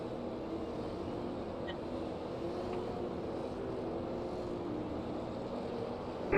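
Race car engines roaring in a dirt-track heat at Renegade Racing, a steady loud broadband drone that never lets up, heard from the grandstand.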